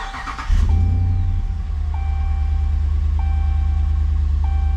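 Car engine cranking and catching after an oil change, then settling into a steady close idle, with a chime beeping at regular intervals.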